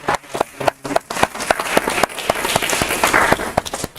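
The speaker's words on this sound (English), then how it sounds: "just a round of applause for all of our speakers" An audience at a live-streamed event gives speakers a round of applause, a burst of brisk, uneven hand claps of moderate loudness, close by and alone without talk.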